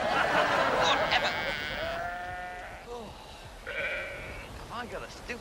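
Sheep bleating in a field with a sheepdog, several wavering bleats of varying pitch close by, mixed with people talking and background noise.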